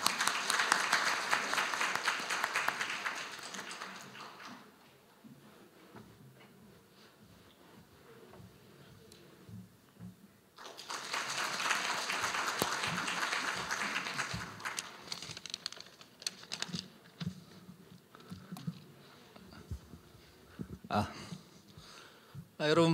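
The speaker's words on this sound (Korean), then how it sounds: "더 큰 박수 부탁드립니다" Applause from a conference audience at the opening ceremony of an autumn academic meeting of a transport systems society, broad steady clapping in two long bursts separated by a quieter stretch, with a person speaking near the end.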